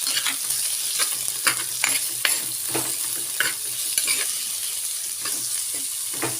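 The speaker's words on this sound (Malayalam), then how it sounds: "നമുക്കൊന്ന് വഴറ്റി കൊടുക്കാം." Onions sizzle and fry in a hot pan for a shark curry, with steady crackling and repeated stirring scrapes close up, and no talking.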